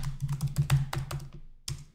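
Rapid typing on a computer keyboard while entering a password at an Arch Linux login, a close, crisp burst of keystrokes followed by a pause and one final key press.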